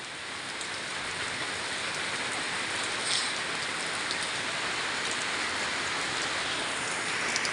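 Heavy rain pours down in Khammam, a dense, continuous hiss of drops on surfaces, loud and unbroken throughout with no voices.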